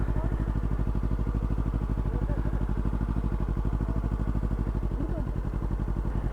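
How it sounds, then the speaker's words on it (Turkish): A Yamaha R25 motorcycle rolls along in neutral, and a loud, close, steady engine putter with a fast even pulse runs throughout. "Hatta şu an boşa aldım. Kendi gidiyor motor."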